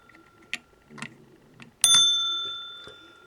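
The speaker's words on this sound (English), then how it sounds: "There's the little armature, if you like, for the bell." An old telephone's bell struck by its armature: a few faint ticks and taps, then one sharp metallic ring that decays slowly, heard alone and close.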